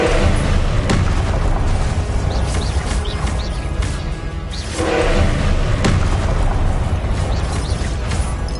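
Repeated booming blasts of the Confringo blasting spell in a Harry Potter duel, heavy thuds recurring through a loud, dense stretch of combat noise.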